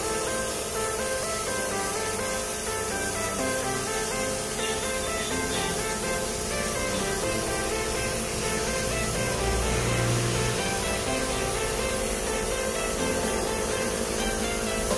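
A spray gun applies granite-texture paint to a wall, giving a loud, steady, close hiss of spray that runs unbroken throughout with no talking.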